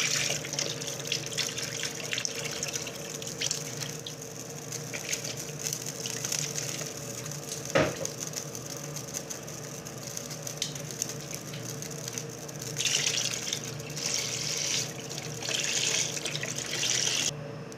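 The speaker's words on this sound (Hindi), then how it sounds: "अपना सारा दूध डालेंगे।" Milk pours into a pan in a home kitchen for milk cake, a steady continuous liquid stream that runs throughout, with one sharp knock partway.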